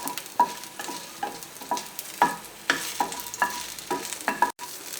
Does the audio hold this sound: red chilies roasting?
yes